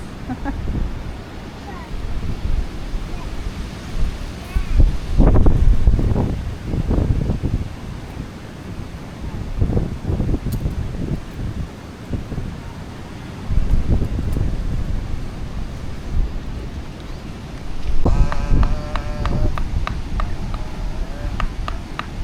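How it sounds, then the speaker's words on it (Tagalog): Strong seaside wind buffets and roars in gusts at a beach campsite, loud and rough against the microphone, with surges and lulls over the span. "Nakaharap sa hangin eh."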